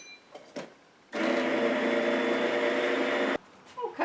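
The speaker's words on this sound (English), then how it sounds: "give it a good mix with my immersion blender" An immersion blender whirs steadily for a couple of seconds, close and loud, as it mixes a homemade sweetened condensed milk base with melted butter, with quiet clatter before and after.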